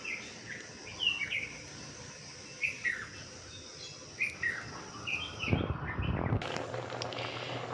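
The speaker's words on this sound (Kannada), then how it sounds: "ಹಕ್ಕಿಗಳ ಸೌಂಡ್ ಕೇಳಿಸ್ತೀನಿ." Several birds chirp and call in short bursts on a morning outdoors, repeated sharp tweets over steady insect-like background hum, followed near the end by a louder broadband rustle or clatter close by.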